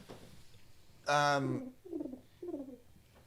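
A pigeon or dove gives a loud, close call followed by two softer, lower coos in a short repeating rhythm, with faint background noise and no speech.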